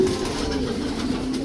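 A slaty check racing pigeon coos softly and continuously, a low throaty rolling call close by with no talking over it.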